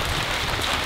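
Heavy rain pours down steadily outdoors near farm fields, a dense broadband hiss that holds at an even level through the short stretch with no voices.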